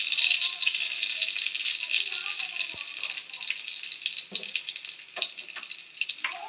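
Dried chilli, cardamom, cumin and whole garam masala spices fry in hot oil for a tempering, giving a steady close sizzle with light crackles and a few stirring knocks throughout.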